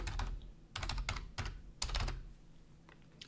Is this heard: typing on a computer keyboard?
yes